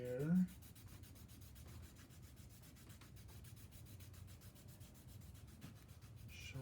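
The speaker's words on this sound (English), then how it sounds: "Get some more graphite on my sanding pad there." Graphite is rubbed onto a sanding pad, a faint, steady scratchy rasping in quick repeated strokes, close and quiet, after a brief knock at the start.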